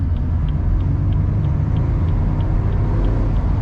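A 2016 BMW 228i xDrive Cabriolet (F23) in sport mode climbing a ramp, its engine a steady, close, deep rumble that holds constant throughout with no talking.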